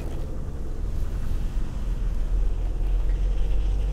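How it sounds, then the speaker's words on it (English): Ford Tourneo Custom Active van pulling away on slippery ground with its wheels spinning, a deep low engine rumble that stays steady and fairly loud throughout with no talk. "So we're just gonna do a pull away, probably one of the most difficult things to do in adverse conditions"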